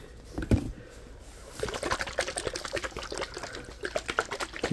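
Water and other liquids in a fast ASMR session make close, wet trickling and sloshing sounds. They follow a few sharp handling noises and come in uneven bursts.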